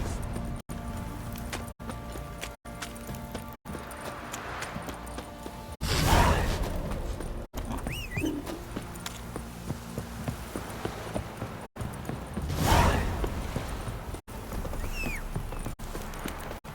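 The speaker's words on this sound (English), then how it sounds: "Time to walk the horses." Horse hooves clip-clopping at a steady walking pace in The Witcher 3, moderately close over a bed of game ambience, with a couple of louder swells and no talking.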